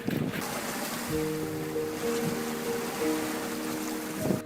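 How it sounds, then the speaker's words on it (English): A motorboat engine drones steadily as the boat speeds away over ocean waves, set against loud wind and surf noise throughout. "cranks up his engine and speeds the mama otter away to safety"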